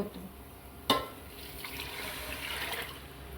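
A brief clatter, then hot water pours and splashes steadily into a pot of lentils, moderately close, with a faint voice in the background.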